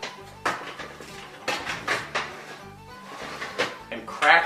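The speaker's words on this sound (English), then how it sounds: "Place the rack back inside" A metal oven rack slid back into an oven while drying pemmican with blueberries, giving a series of close clattering metallic knocks and scrapes, several sharp hits spread unevenly over a few seconds.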